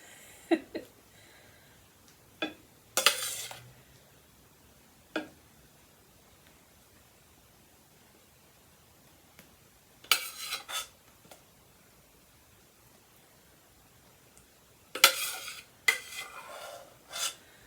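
Cooked-down apples for apple pie being stirred in a pot, heard as scattered scraping and clinking strokes of a spoon against the pot, short and fairly quiet, separated by long stretches of near silence.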